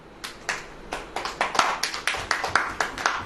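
A church congregation claps in rhythm, a run of sharp, fairly close hand claps that start scattered and settle into a steady beat.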